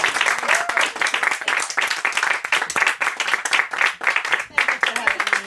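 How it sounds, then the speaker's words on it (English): A small audience claps steadily at a poetry reading, a sustained round of applause with crisp, uneven hand claps and a few faint voices underneath. "So another round of applause for everyone."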